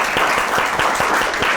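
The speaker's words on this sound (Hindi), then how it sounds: "ज़ोरदार तालियां हो जाए डॉक्टर साहब के लिए" A studio audience applauds steadily for a heart surgeon being welcomed on a TV show, dense clapping close and loud throughout with no talk over it.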